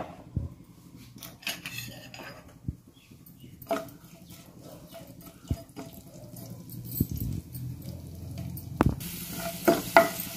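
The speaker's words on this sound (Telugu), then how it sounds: "వెల్లుల్లి రెబ్బలు, అల్లం తరుగు, జీలకర్ర వేసి ఫ్రై చేసుకోవాలి" Garlic cloves, chopped ginger and cumin seeds fry in oil in a pan, a steady sizzle broken by scraping stirs and occasional clinks of a utensil against the metal, growing busier toward the end.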